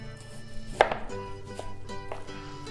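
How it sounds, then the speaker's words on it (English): A knife slices white onion into julienne strips on a board, several crisp close chops, one sharper cut early and a few lighter ones after, with no talking. "So you can cut it julienne like this, slices."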